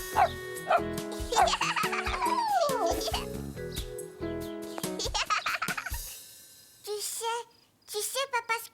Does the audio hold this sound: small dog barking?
yes